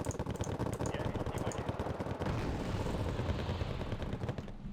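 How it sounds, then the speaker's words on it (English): Rapid, rattling bursts of artillery fire in Wargame: Red Dragon during a mountain campaign battle, dense overlapping shots at moderate distance forming a continuous crackling barrage, no talking. "VDV are going to have a bad time with that artillery still firing at them."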